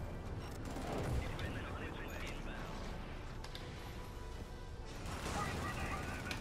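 Gunfire from the video game Helldivers crackles through a busy, fairly quiet battle mix. Scattered shots and mechanical clatter run continuously with no clear pauses.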